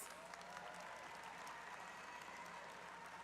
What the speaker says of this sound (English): Families, let's give our graduates another round of applause,